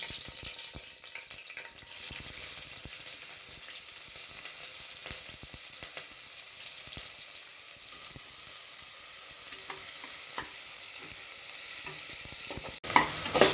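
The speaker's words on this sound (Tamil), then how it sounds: "இப்போ எண்ணெய் நல்லா சூடாகிடுச்சு. இது கூடவே கட் பண்ணி வச்சுக்கிற வெங்காயம், பச்சை மிளகாவை சேர்த்துக்கிறேன்." Sliced onions and green chillies hitting hot oil in a pan for a bachelor-style mutton curry, a soft steady sizzle with faint stirring scrapes throughout and a sharper clatter near the end, no talk.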